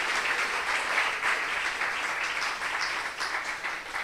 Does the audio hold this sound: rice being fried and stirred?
no